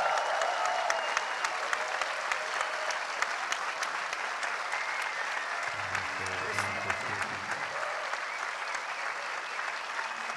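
Steady applause from an audience greeting James Cameron at the Berlin Film Festival, a dense and even wash of clapping that holds for about ten seconds, with a brief low hum or murmur partway through.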